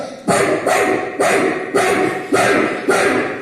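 A voice imitates a dog barking, six loud, evenly spaced woofs delivered up close with no other talk.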